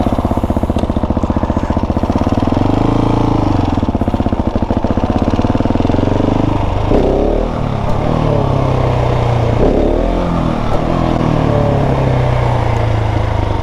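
A motorcycle in first gear gets small, steady throttle twists, its engine note swelling and settling from a continuous rumble. The engine runs loud and close throughout, with no talk.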